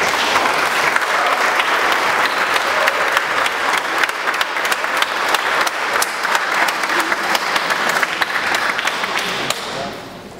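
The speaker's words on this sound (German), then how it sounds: "Und jetzt ist mal die Zeit für einen Applaus." Steady, dense applause from a church congregation at a confirmation service, filling the space with sharp overlapping claps at an even, loud level throughout and fading slightly at the very end.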